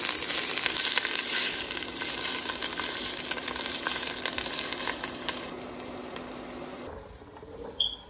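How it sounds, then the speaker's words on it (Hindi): Finely chopped onions, two medium ones, frying in about four tablespoons of oil, a steady loud sizzle that fades out near the end, followed by a faint clink. "अब 2 मीडियम साइज प्याज इस तरह से मैंने बारीक काट लिया है और इसको हम लोग अभी भून लेंगे।"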